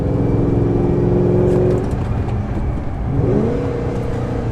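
Supercharged 5.4-liter V8 of a Ford GT with a 6-speed manual, a loud, steady close engine drone that dips slightly midway and then picks up again, with no talking.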